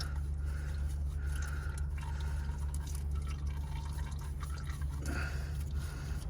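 Engine oil dripping from a Nissan Patrol during an oil change, faint scattered drips and trickles over a strong steady low hum, with no talking.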